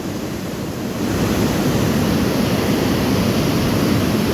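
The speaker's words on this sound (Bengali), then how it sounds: "একেই বলে কিন্তু জলের তোড়" Rushing floodwater pours over the Ghatal waterfall as a loud, dense, continuous roar, close by and growing slightly stronger after the first second, with no voices over it.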